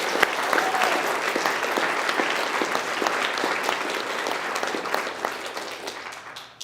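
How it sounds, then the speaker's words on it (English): A congregation claps for its volunteers at a community service, dense, steady applause from a roomful of people that slowly eases off toward the end. "Let's have a round of applause for our volunteers."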